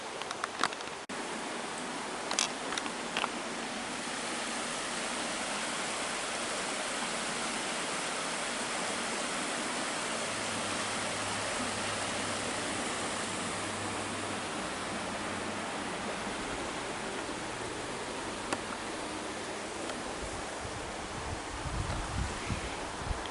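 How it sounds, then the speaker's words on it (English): Coder Run pours into Redbank Creek near Brookville, Pennsylvania, making a steady, dense rushing hiss of flowing creek water that holds constant for over twenty seconds, with a few faint clicks and brief low rumbles. "Coder Run flows into Redbank Creek."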